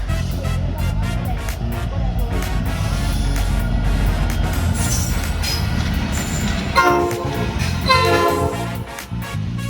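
A pair of SD60E diesel locomotives rumbles past close by, with heavy engine roar, and brief horn-like tones rise near the end.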